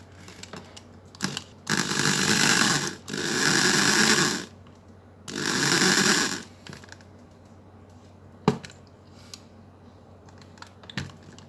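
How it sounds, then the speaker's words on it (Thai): Power drill bores into the metal base of a Hot Wheels die-cast car in three loud, sustained whirring bursts, separated by short pauses, followed by a few faint clicks and taps of handling. "มา เจาะท้องกันก่อนนะครับขั้นแรกใช้สว่านเจาะนะครับ"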